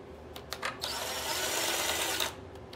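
A power driver whirs out a 6 mm screw from the air cleaner box of a Generac XT8500EFI generator, with short taps and then one sustained spin of about two seconds, close by.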